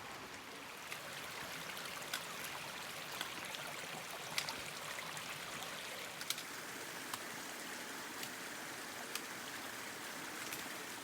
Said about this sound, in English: the Park Service has allowed Garden Creek to flow onto the trail without correcting its course